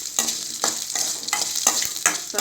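Shallots and a garlic clove fry in oil in a pan for a Tamil bitter gourd tamarind curry, a steady close sizzle broken by about five scraping stirs at a regular pace.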